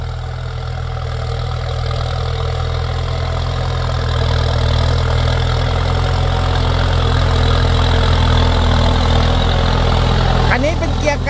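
A 7610S tractor engine runs steadily while pulling a six-disc plow in a field, giving a loud, even, low drone that continues throughout with a slight rise partway through.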